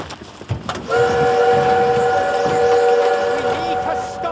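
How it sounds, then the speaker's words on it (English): A World War II-era train in Call of Duty: WWII sounds a long, loud, sustained whistle over a rumbling, rattling rail roar, heard close and alone. "need to stop that train!"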